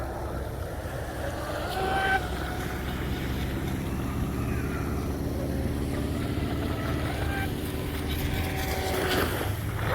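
A Kyosho Dolphin RC outboard motor on a vintage MRP tunnel hull runs on 2S through turns, a steady buzzing whine over water and wind noise, holding a fairly even level throughout.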